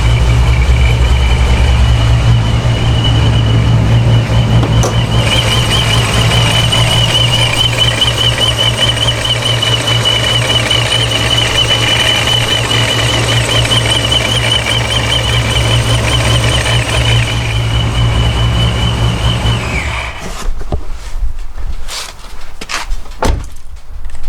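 A forged 426 Hemi fitted with a D1SC supercharger runs steadily at close range, a loud continuous engine drone with a high supercharger whine layered on top for about twenty seconds, then shuts down, leaving scattered clicks and knocks.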